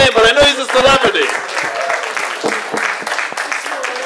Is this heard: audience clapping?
yes